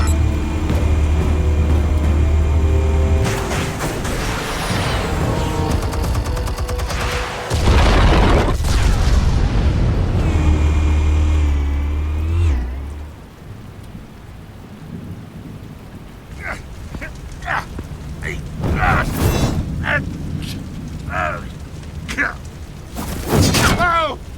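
Video game explosion in Batman: The Telltale Series, a heavy booming blast and rumbling roll that dies into crackling debris and scattered impacts, loud and close with voices and effects mixed in.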